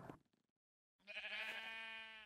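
A sheep in the Minecraft video game gives one long, loud, harmonic bleat that stands alone after a short burst of noise and a pause.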